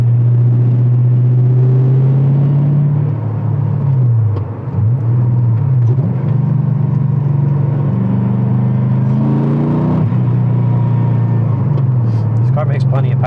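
LS2 V8-swapped Porsche 911 cruising in fifth gear at about 30 mph, a loud, steady low engine drone with slight pitch shifts as the throttle changes.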